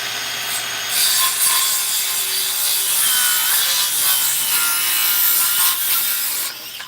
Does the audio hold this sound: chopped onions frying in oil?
no